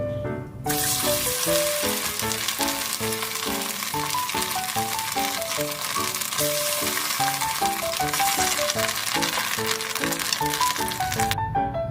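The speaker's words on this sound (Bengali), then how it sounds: "মাছের যে ডিমটা ছিল সেই ডিমটা এবার ভেজে নেব।" Fish roe fries in hot oil with a continuous bright sizzle, close and even throughout, while background music with steady melodic notes plays over it.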